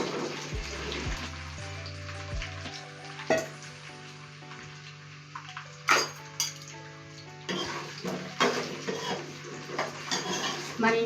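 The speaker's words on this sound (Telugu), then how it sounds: "బెండకాయల్ని ముందు ఆయిల్లో కొంచెం ఫ్రై చేసుకోవాలి." Okra frying in a few spoons of oil in a pan for a masala curry, a low steady sizzle with occasional sharp clinks of a spoon against the pan.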